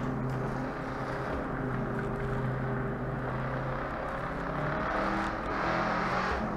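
Shelby Cobra 427 S/C V8 at speed on the Nurburgring, a loud continuous low engine roar with steady harmonic drone that rises and swells toward the end, heard from the cabin with no talk.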